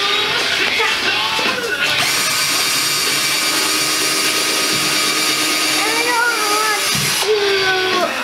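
A power drill drives screws into a wooden rack built to hold 3-inch firework shells, with a loud, steady whirring motor running for several seconds and talk over parts of it.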